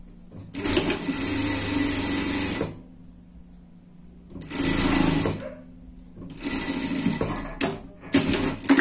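Sewing machine running a safety stitch along a shirt seam in three or four loud bursts of rapid mechanical whirring, separated by pauses of near silence, close and with no talk.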